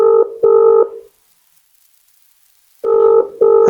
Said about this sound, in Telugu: సో ఇంకోసారి ఫోన్ చేసే ప్రయత్నం చేద్దాం ఫైనల్గా